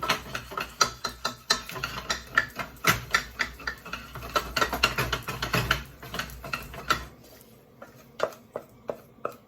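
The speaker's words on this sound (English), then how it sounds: "you're cooking off the flour. You really want to give it a good mix" Choux pastry dough being stirred hard in a pan while the flour cooks off: quick, uneven knocks and scrapes of a spoon against the pan, close and fairly quiet, easing off over the last few seconds.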